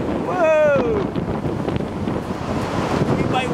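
Strong wind gusts roar and buffet against the microphone outdoors during an ice storm among tall pines, loud and steady, with a voice speaking over it.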